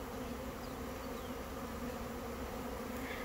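Honey bees buzz steadily and densely around a hive under robbing pressure from a late-season swarm, a continuous close hum with no voices.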